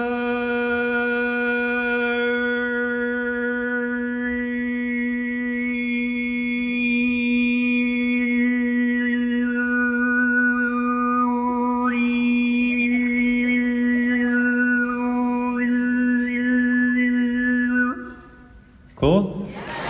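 A cappella singer holds a steady low sung note while shifting the tongue forward, so bright whistling overtones rise and step above the drone, solo and close, ending in a short breath and silence.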